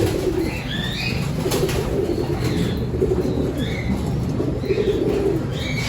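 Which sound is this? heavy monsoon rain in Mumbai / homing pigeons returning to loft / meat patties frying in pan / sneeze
homing pigeons returning to loft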